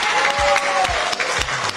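A crowd claps in steady, dense applause, a continuous close patter of many hands lasting the whole moment, with a faint voice tone beneath it.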